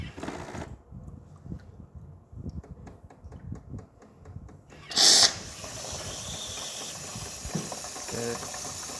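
Jura Impressa XJ9 coffee machine frothing milk for a cappuccino through a hose: soft hissing and gurgling with a loud burst of airy spray in the middle, followed by a steadier hiss.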